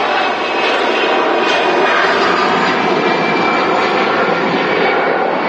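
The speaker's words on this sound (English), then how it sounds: "EasyJet Neo off to Milan" An EasyJet Airbus A320neo jet takes off for Milan, its engines a loud, steady broadband roar that holds constant and fills the whole stretch with no voices over it.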